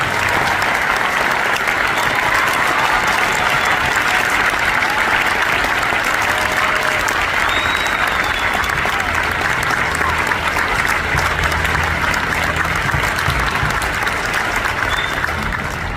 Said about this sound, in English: would you please join me in a big round of applause for our guest conductor